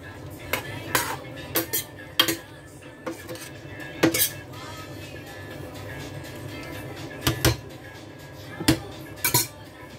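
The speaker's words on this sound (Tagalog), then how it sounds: "Haluin." String beans being stirred into a coconut prawn stew, a spoon clinking and scraping sharply against a metal pot in irregular bursts over a low simmering background, close by with no talk.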